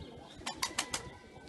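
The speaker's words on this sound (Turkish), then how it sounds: "Peki, hepsi Sivas kuşu bunlar" Sivas breed pigeons flutter nearby, four quick wing claps in a rapid burst against a low murmur of soft cooing, all within a moment.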